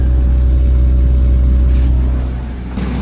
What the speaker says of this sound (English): RPM is coming down as the engine is heating up.